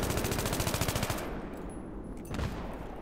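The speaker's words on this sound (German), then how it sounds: "Zack, Granate hinterher und schon hat er mich erschossen" Rapid automatic gunfire in a Battlefield 3 team deathmatch, a burst of quick regular shots for over a second, then a pause and a further loud burst or blast near the end.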